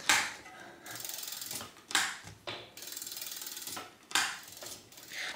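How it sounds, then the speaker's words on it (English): A barrel adjuster on a vintage bicycle's brake is turned tight by hand, giving a close, dry ratcheting clatter. Steady runs of rapid clicks repeat several times, each opening with a louder snap, with no voices. "Then I take the barrel adjuster, tighten that back in a little bit, test the brake lever."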